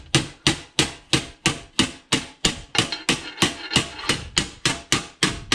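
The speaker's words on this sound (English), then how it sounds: "I need to get something I can hammer this onto." Steady hammer blows ring out on a metal car panel of an MX5, about two or three strikes per second in an even rhythm, loud and close, with a brief spoken remark.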